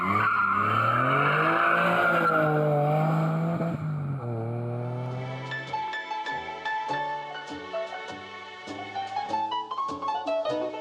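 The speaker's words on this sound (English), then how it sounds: "an old-fashioned V12 powered Ferrari" Ferrari 456GT with a V12 engine being driven through the Italian countryside near Modena, a smooth revving engine note rising and easing as it climbs through gears, heard from inside the car.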